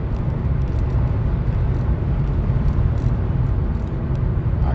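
A VW Cross Up TSi cruises on a highway at about 120 km/h, a loud, steady road and engine rumble with wind hiss that holds evenly throughout.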